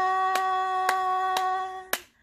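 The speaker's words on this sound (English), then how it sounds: "They made up a dance called clap and clap and clap and clap" Four evenly spaced hand claps keep time with a children's rhyme, sharp and close over a sustained tone that plays beneath them.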